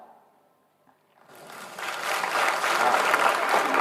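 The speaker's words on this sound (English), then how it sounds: "Loud clap" A crowd at a convent high school annual day celebration breaks into applause after a near-silent pause, the clapping swelling quickly and then holding loud and sustained.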